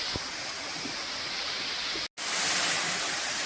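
Small waterfalls between the main tiers of Erawan Falls in Kanchanaburi, Thailand: a steady, broad rushing of falling water close by, with a brief dropout partway through.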